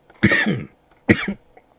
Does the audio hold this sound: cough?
yes